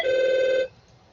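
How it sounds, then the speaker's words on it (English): An office telephone rings once, a loud steady electronic tone lasting about half a second before cutting off into quiet room hiss. "that is my office mate's phone if you heard that"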